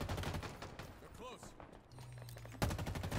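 Gunfire in Halo Infinite, a series of sharp shots scattered across a short stretch with game sounds in between and a louder burst near the end, under speech.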